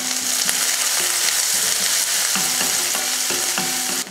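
Mustard seeds, urad dal, curry leaves, onion and two green chillies fry in hot oil for a carrot-and-bean poriyal, giving a steady close sizzle broken by intermittent metallic clinks and stirring.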